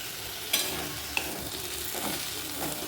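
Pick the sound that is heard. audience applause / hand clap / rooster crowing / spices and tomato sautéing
spices and tomato sautéing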